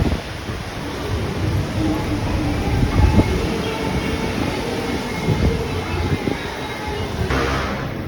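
A light rail train rumbles past close by at Carriedo Station in Manila, with a steady roar of wheels on track and metallic clatter, and faint squeals near the end.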